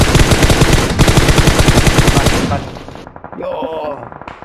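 Rapid automatic gunfire in PUBG, a loud close stream of evenly spaced shots for a couple of seconds that then cuts off, followed by fainter shots and game sounds.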